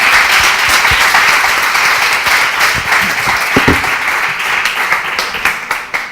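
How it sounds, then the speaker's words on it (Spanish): Lively applause from a conference audience welcoming speakers, close and dense clapping that holds steady and begins to thin toward the end. "un fuerte aplauso para darles la bienvenida"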